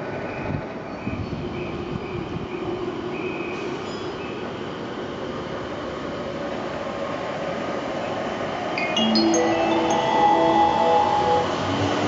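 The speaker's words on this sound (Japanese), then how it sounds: "2番線の回送電車が発車いたします。" An E231 series 800 out-of-service commuter train pulls away from a platform at Mitaka station, a steady rolling rumble of wheels and motors that swells near the end, with brief whining squeals over it.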